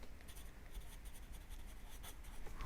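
A pen or pencil writes a label on a paper colour wheel, soft close scratchy strokes repeating in short bursts, faint and quiet with no talking.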